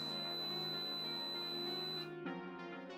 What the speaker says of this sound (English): Did you hear that very loud beep?